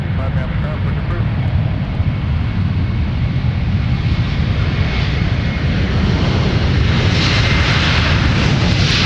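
A fixed-wing airliner roars down the runway on its takeoff roll at Minneapolis–Saint Paul airport, a loud, steady, close engine rumble that holds constant throughout with a faint brightening toward the end.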